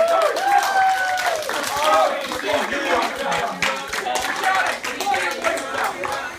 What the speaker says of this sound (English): Now we give a big round of applause to all of you